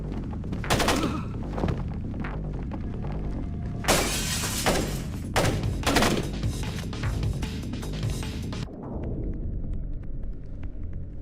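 In the Splinter Cell video game, several gunshots fire in quick bursts and shatter overhead lights, each sharp crack followed by breaking glass, before a quieter low hum takes over.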